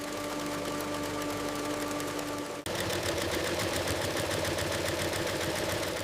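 Steady mechanical whir of a factory sewing machine hemming flag edges, running continuously with a brief dip partway through before resuming louder and denser, no voices.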